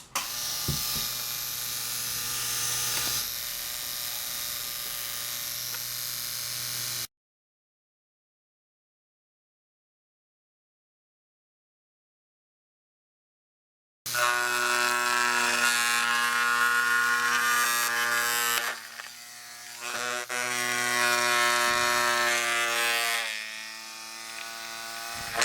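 A coil tattoo machine with the voltage cranked up, giving a loud, steady electric buzz with a strong hum. It runs for about seven seconds, cuts to silence, then resumes with slight changes in pitch.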